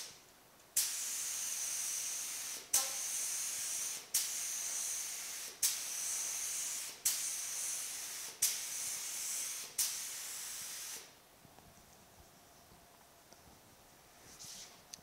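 A spray gun applying a second coat of AMC Matador Red paint hisses in eight short, even bursts, each lasting about a second with brief pauses between, then stops, leaving quiet room noise.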